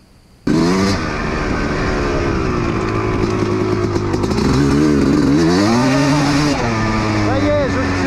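A motocross motorcycle engine starts up loud and close, then revs steadily, its pitch rising and falling in swells through the run.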